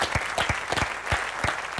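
A studio audience at the game show Des chiffres et des lettres applauds contestant Anthony with a steady, fairly loud wash of clapping, marked by a few rhythmic accented claps and no talk.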